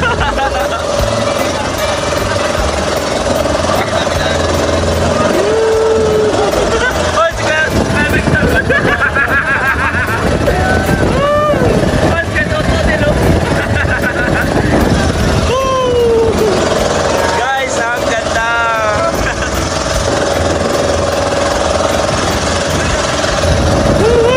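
A motorboat engine drones steadily throughout a trip to an island over rough waves, with wind and water noise and people talking and shouting over it.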